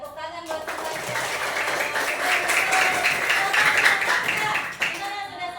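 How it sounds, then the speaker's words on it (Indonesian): A classroom group of students and teachers claps together for several seconds, a dense, lively patter that starts abruptly and fades near the end, fairly close and moderately loud. "tepuk tangan buat semuanya"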